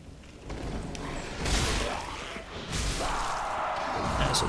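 A hidden stone door swings open behind a wall in the video game Dark Souls 3, grinding and rumbling with scraping mechanism noise and a heavy slide that builds across several seconds.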